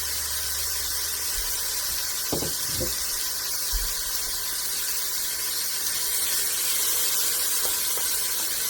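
Chopped bacon cooking in a pot on medium-high heat, a steady close frying hiss with a few brief squeaks and clunks of handling partway through.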